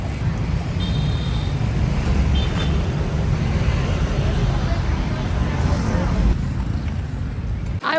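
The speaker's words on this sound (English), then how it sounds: "the motorbikes just come from all directions" Busy street traffic with motorbikes coming from all directions makes a steady wash of engine noise and wind rumble, continuous and fairly close throughout.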